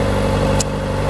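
Kawasaki ZX-4R motorcycle engine running at a steady, close, loud drone with a low rumbling throb and no voices.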